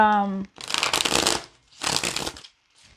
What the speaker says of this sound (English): I want to shuffle more.